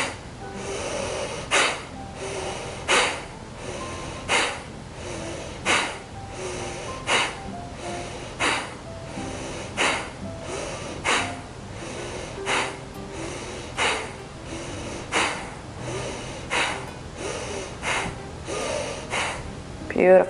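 Forceful yoga breath work for the abs: sharp, punchy exhales through the nose repeat in a steady rhythm about every second and a half, roughly fifteen in a row, close and clear.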